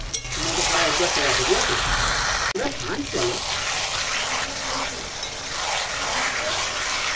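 Chicken with spices and salt being sautéed in oil in a pan, a continuous frying sizzle with stirring scrapes and clatters, under a faint voice.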